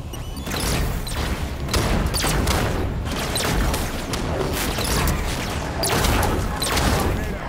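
Rifle fire in a Halo video game, a continuous loud fusillade of rapid shots and impacts layered with battle noise, sustained through the whole stretch with no pauses.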